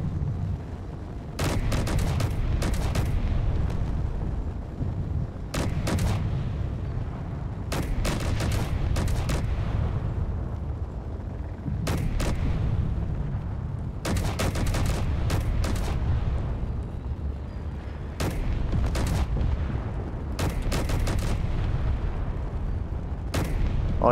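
Gunfire in the space video game Space Engineers: repeated clusters of sharp shots and bursts fire every few seconds over a constant low engine rumble, with no talking.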